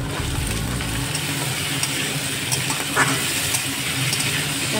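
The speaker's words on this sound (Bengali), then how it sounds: "পেঁয়াজ আলু একসঙ্গে ভাজবো।" Onion and potato frying together in a pan, a continuous loud close sizzle with a few faint stirring scrapes, no talking.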